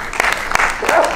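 An audience at a Sikh film festival in Chandigarh applauds an honoree. The clapping is brisk and close, with sharp individual claps standing out over a short burst.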